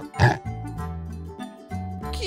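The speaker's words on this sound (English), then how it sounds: "Pig." A single short pig oink near the start, over light background music.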